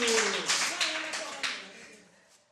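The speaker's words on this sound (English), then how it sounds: "Can you clap hands for little one?" A few people clap for a little child, a handful of distinct hand claps over a voice talking, then fading away into quiet.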